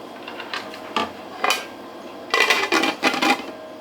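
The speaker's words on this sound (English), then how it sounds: "Let's give that a nice stir." Spoon knocking and scraping against a pot of fish stew as it is stirred, a handful of distinct metallic clinks spaced irregularly, close and fairly loud, with a quicker cluster near the end and no talk.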